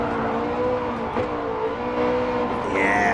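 Ferrari F430 Scuderia engine in Gran Turismo 7, a steady high-pitched V8 wail holding near the limiter under acceleration, with a brief dip and a rising shift near the end, loud and close throughout.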